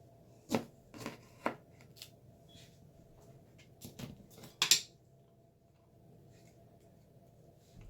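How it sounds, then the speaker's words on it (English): A knife cuts lemons in half on a cutting board, giving several sharp, distinct chops spaced irregularly, with a louder double knock near the end and quiet room background between strikes. "take your 2 lemons and you want to cut those in half"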